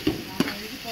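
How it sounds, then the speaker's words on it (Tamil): Ginger garlic paste sizzles and fries in a pan for biryani, with two short stirring scrapes over a steady close hiss. "இஞ்சி பூண்டு பேஸ்ட் போட்டு வதக்கிக்கலாம்"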